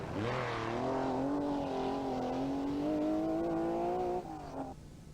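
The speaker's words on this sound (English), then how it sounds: "But Toivonen, with driving like this, is right on Fisher's tail." A rally car on a 1984 Circuit of Ireland stage in the Wicklow Mountains, its engine holding a loud, steady, high-revving note before shifting and fading as the car pulls away.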